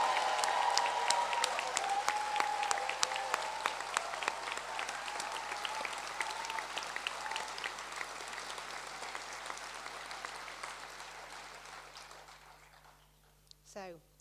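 Graduation audience applauding at an aviation and security awards ceremony, a sustained wash of many hands clapping that fades out toward the end, with a voice briefly heard over it.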